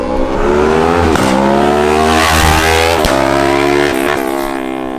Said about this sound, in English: that's why I don't want a loud exhaust on my R3